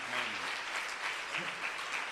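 A church congregation applauds during an evening Spanish-language service, a steady wash of many hands clapping at moderate distance, with faint voices murmuring underneath.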